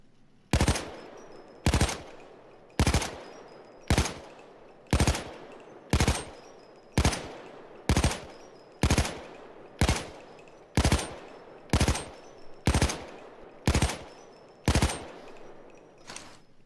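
An AKMSU Krinkov carbine fires in Payday 2 as about fifteen evenly spaced sharp shots, each followed by a short decay, loud and close with no talking.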